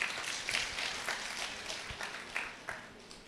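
Scattered audience applause at a Malayalam Christian prayer gathering, a steady patter of many hands of moderate loudness continuing throughout, no talk over it.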